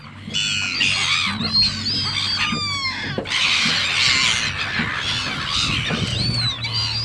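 A flock of seagulls squawking around someone eating outdoors, repeated overlapping cries and wails over several seconds, close and fairly loud.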